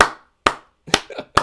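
Four crisp hand claps at a slow, even pace, close by, with short silences between them and no talking.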